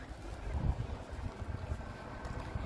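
Strong, cold wind buffets past while walking outdoors, a continuous blustery rumble with uneven gusts and no talking.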